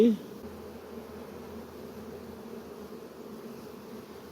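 Honeybees at an open hive during a pre-winter apiary inspection, making a faint, steady, low hum that continues evenly without voices.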